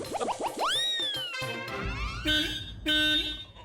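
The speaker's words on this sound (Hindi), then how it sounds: "हॉर्न की आवाज सुनाई दे रही है?" Two short, flat, buzzy auto-rickshaw horn honks sound close by after a burst of springy, swooping electronic tones.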